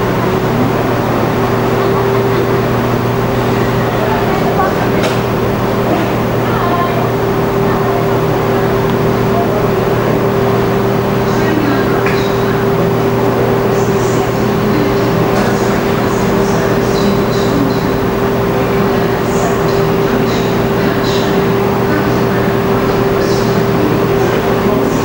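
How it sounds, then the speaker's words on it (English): A British Rail Class 43 high-speed diesel train pulling away at Newport station, a loud steady engine drone with a strong constant hum, distant rail clatter and squeaks over station ambience. "On the far end, there's a class 43 pulling away."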